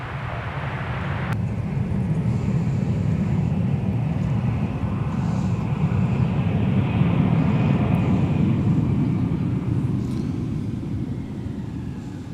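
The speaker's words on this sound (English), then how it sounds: "Here's Delta coming in from Cancun." Delta airliner arriving from Cancun at Minneapolis–Saint Paul airport, a broad steady jet roar that swells and lingers at a distance for many seconds, heard alone without talk.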